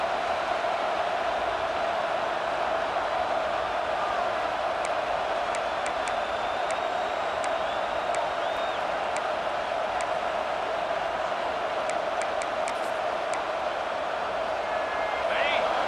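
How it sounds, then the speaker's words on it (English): Stadium crowd in the EA Sports College Football 26 video game roars in a dense, steady wall of noise for the whole stretch, with faint sharp whistle-like tones poking through now and then. "Listen to this crowd just shaking the girders of this place trying to help their defense."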